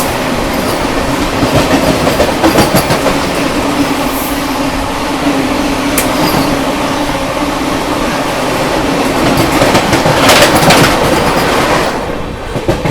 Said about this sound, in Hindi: सामने से आ रही है आप लोगों की वाराणसी नई दिल्ली वंदे भारत एक्सप्रेस